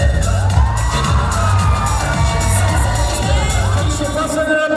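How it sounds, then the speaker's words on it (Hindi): Loud, sustained crowd cheering and shouting for a runner-up at a model hunt show finale, mixed with pulsing stage music and steady over the whole stretch. "जोरदार तालियां उनके लिए, जोरदार तालियां प्लीज"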